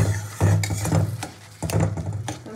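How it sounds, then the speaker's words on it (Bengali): A spoon stirs mashed vegetable bharta in a pan on low heat, giving repeated close scrapes and soft knocks against the pan in an uneven rhythm, with no voices. "আমি আবারও নাড়াচাড়া করে ভর্তাটাকে রস টানাতে দেবো"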